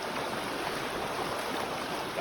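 Escalante River water flowing around waders in a shallow stream, a steady broadband rush and trickle of running water close by, continuous and fairly loud, with no talk.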